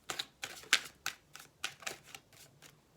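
Tarot cards being shuffled by hand in a quick run of about ten crisp riffling bursts, close and fairly quiet, with no talking.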